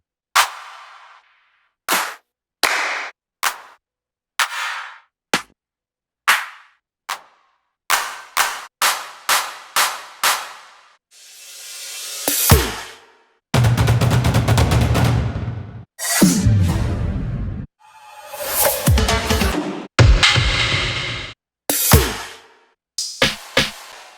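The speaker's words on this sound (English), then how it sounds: "There is like a lot of drums, claps, drum fills" Drum and clap samples from a Future Rave producer pack play one after another: sharp, punchy hits separated by silences, then longer crashing and building fill passages, followed by more single shots.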